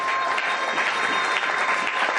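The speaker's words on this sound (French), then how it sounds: "Est-ce qu'on peut acclamer Jésus?" A church congregation applauds loudly during a Pentecost service, dense continuous clapping from many hands that stays strong and even from start to finish.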